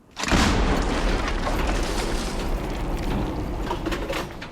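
A single heavy boom erupts as an FH70 self-propelled howitzer fires, then a long, loud rolling rumble and echo that sustains for several seconds.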